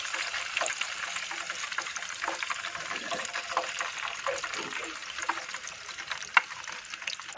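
A piece of fish frying in hot mustard oil over high heat, a steady crackling sizzle with occasional sharper pops and faint scraping.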